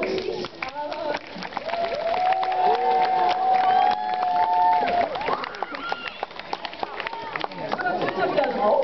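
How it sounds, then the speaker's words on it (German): Planetarium audience in Bochum claps in scattered applause during a 2015 solar eclipse viewing, with a presenter's voice running over the clapping throughout. "Beifall für den Kameramann der BBC"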